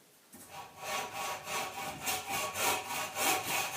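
A hand saw cuts wood clamped in a sawhorse, with about ten even back-and-forth rasping strokes, close and moderately loud, and no talking.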